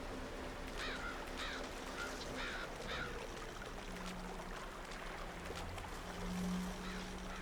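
Cawing bird calls in The Witcher 2, a few harsh repeated caws early on, moderately distant over a steady outdoor ambience with low wind-like rumble and water sounds.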